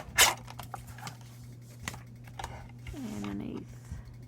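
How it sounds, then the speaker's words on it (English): A paper trimmer slicing black mixed media paper, heard as a short, quiet sliding scrape after a few soft clicks and handling sounds. "Let me grab my trimmer and trim off"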